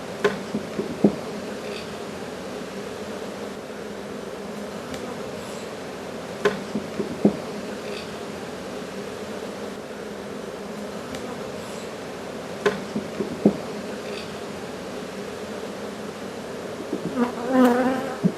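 Honey bees buzz steadily around an open hive during a beekeeping inspection, a dense close hum with occasional louder passes and light knocks.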